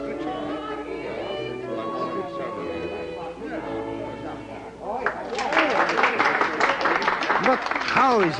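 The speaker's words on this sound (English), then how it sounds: "yet the storm of applause is not abated" Applause for a woman's singing on an old-time radio show: a broad, dense wash of clapping swells up after a stretch of music and voices and keeps going strong and close to the end.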